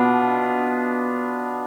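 A single vii chord rings out within a harmonic progression, struck once and held with a gradual fade, bright and close with no other sounds.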